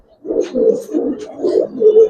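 Giribaz pigeons coo up close in repeated soft, throaty rolling phrases, about four pulses in quick succession with no talking.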